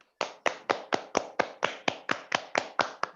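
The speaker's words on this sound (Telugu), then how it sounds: "గట్టిగా ఒకసారి క్లాప్స్ కొడతాం అందరం." A group clapping together in unison for Mahavatar Babaji's birthday at a meditation class, about twelve sharp, evenly spaced claps in a steady rhythm, loud and close, with no talking.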